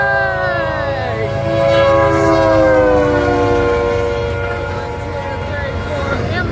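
A BNSF double-stack freight train rumbles past at close range while its air horn blares long sustained chords over the continuous roar of the cars.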